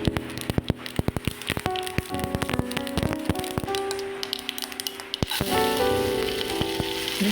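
Mustard seeds and urad dal sizzling in hot coconut oil, with a dense crackle of sharp pops and a hiss that swells near the end, set against background music.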